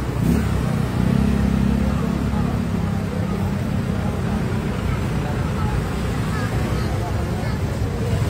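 Continuous road traffic, a loud broad engine rumble with wind buffeting the microphone and a slight rev near the start.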